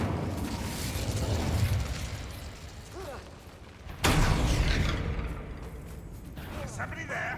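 The Incendio fire spell is cast in Hogwarts Legacy, giving a sudden bursting whoosh of flame midway, with rumbling noise before it and a fading roar after.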